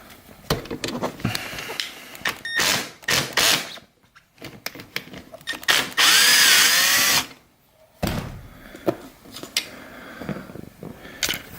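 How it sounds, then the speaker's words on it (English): A power drill unscrewing a Torx screw from the seat trim of a BMW E90-series car, several short whirring bursts with one longer sustained spin, separated by clicks and handling noises. "you're gonna want to unscrew this Torx bit here"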